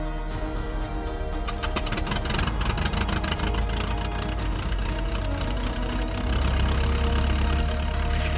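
Light aircraft piston engine starts and idles before taxiing for a first flying lesson, a loud, steady, rapid throbbing drone close by that continues without a break.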